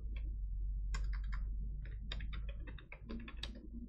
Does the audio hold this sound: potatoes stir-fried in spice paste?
no